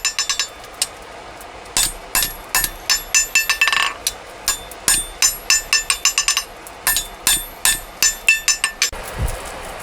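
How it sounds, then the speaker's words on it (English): A small hammer strikes a stack of metal in quick, bright, ringing taps during forging of a San Mai knife, coming in rhythmic bursts with short pauses, loud and close. "Small adjustments are made with a smaller hammer before the stack is folded over and welded again."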